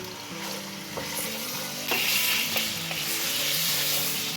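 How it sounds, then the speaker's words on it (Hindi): Half a kilo of chicken with a bay leaf sizzles and fries in half a cup of oil in a karahi, a steady close crackle with scraping stirs throughout and no voices. "उसमें हाफ कप ऑयल ऐड करें, 1 बे लीव्स और हाफ के जी चिकन, और चिकन को फ्राई कर लें"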